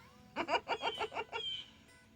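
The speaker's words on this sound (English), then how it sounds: "you hear that blue jay?" A blue jay calls outdoors: a run of about seven harsh, rasping notes in quick rhythm, fairly faint, then a short trailing note, with no voices.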